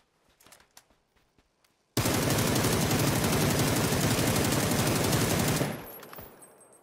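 Sustained automatic gunfire in PUBG, a dense rapid burst of shots lasting nearly four seconds, loud and close, preceded by a few scattered clicks and softer impacts and trailing off at the end.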